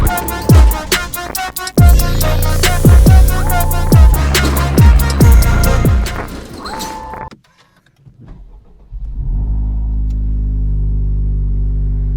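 A Honda FL5 Civic Type R engine on a drive: loud, close engine tones with sharp repeated bursts for about seven seconds, a brief near-silent gap, then a steady low engine drone to the end.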